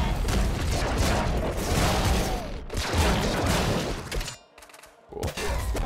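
Rapid weapon fire rattles on in the top-down shooter Nuclear Throne, a dense, loud barrage of shots and explosions with a brief near-silent gap before the firing resumes.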